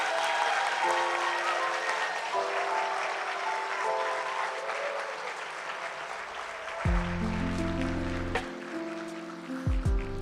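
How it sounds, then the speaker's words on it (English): Poetry slam audience applauding its poets, a broad wash of clapping throughout, with a few low tones and brief sounds breaking in near the end. "Can you give one more round of applause to all of our poets,"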